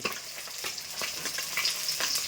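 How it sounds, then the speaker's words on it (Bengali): Katla fish frying in hot oil, a dense close crackling sizzle with spitting pops, steady and loud throughout. "কাতলা মাছ ভাজা হচ্ছে"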